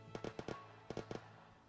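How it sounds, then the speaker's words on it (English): Explosions boom in the Vietnam War game S.O.G. Prairie Fire, a rapid cluster of dull thuds in two bursts, somewhat distant and fairly quiet. "Explosion's going off."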